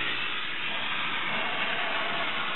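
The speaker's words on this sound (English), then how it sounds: "You can see the steam is coming out." A Gruene handheld steam cleaner, used in portable mode with its top trigger pressed, gives off a steady, close broadband hiss of escaping steam that runs the whole time with no talk over it.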